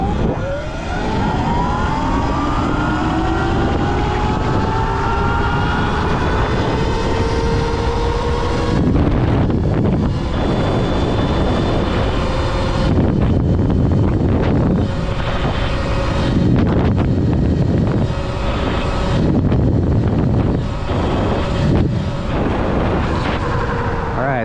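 A Sur-Ron electric dirt bike on a top speed run gives a rising electric motor whine that climbs in pitch, buried under heavy, constant wind roar and buffeting.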